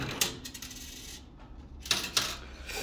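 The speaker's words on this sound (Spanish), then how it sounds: "Vamos a echarle de las monedas de abajo" Coins clatter and clink inside a coin pusher arcade machine, a few sharp metallic drops scattered over a busy background hum, close and fairly loud.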